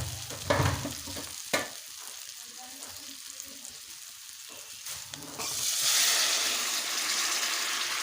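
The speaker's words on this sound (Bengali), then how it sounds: "মশলা থেকে তেল ছেড়েছে দেখুন এবারে দিয়ে দেবো গরম জল" Spice paste fries softly with stirring scrapes for a katla kalia fish curry, then hot water hits the pan and the sound swells into a louder, rushing boil-hiss that carries to the end.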